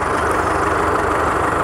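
An Arjun 555 tractor pulls a plough through deep soil alongside a second tractor, its engine giving a loud, continuous low rumble close by with no talk.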